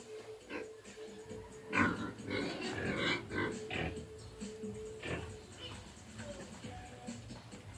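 Pigs grunt and snort in short bursts close by while being bathed and fed on a small farm, with a person talking over them and some clattering farmyard noise.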